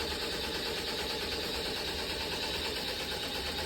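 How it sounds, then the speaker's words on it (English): A sewing machine stitching an appliqué letter F onto fabric for a shirt, a steady continuous mechanical whir running throughout at moderate level with no talk. "you can hear the machine in the background finishing up the F"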